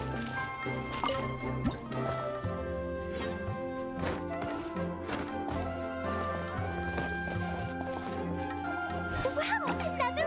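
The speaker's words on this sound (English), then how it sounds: "another water droplet just came out from the wall!" A water droplet drips out of a wall in the video game Secret Summer Paradise, giving soft wet plinks and squishy blips mixed into busy, steady game music.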